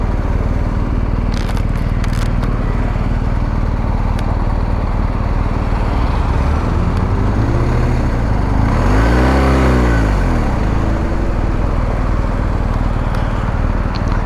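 2022 BMW R1250GS Adventure motorcycle accelerating, a steady loud engine drone under rushing wind, with a rising and falling rev sweep around the middle.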